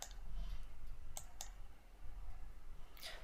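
Someone types on a computer keyboard while entering a maths formula, giving scattered light key clicks over a steady background hiss, with a few isolated taps and a brief cluster near the end.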